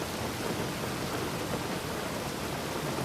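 Steady heavy rain pours outside as a dense, continuous hiss with no pauses, a thunderstorm texture throughout and no voices.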